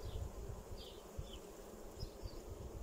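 Honeybees buzz continuously at an open hive in spring in a low, steady drone, with occasional individual bees passing close by.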